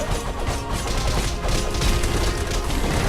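Explosions in the video game Castle Crashers during a pirate ship raid, a dense, continuous crashing and booming barrage at full volume with no pause across the few seconds.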